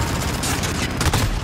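Gunfire in Call of Duty: Modern Warfare: a dense, continuous burst of rapid automatic shots, loud and close throughout the short stretch.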